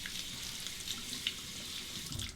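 A bathroom water tap runs to rinse a Timor razor, making a faint, steady stream of splashing water with small drips throughout. No one speaks.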